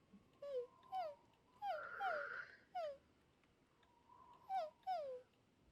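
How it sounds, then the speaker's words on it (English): A dog whimpers from an armchair beside a window, giving a series of soft, high, falling whines in pairs and short bursts, fairly quiet against a hushed room with a faint rustle in the middle. "you hear a whimpering coming from the armchair directly next to the window"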